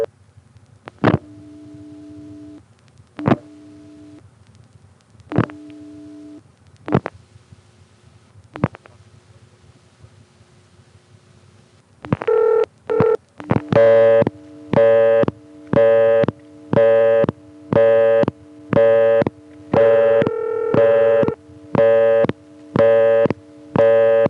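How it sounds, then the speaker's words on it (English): An old 1976 step-by-step exchange line in Colonial Beach gives a few sparse ring bursts, then a loud, regular on-off busy tone pulses over the ringing in an even, repeating cadence. "it'll give us the ring with the busy signal superimposed"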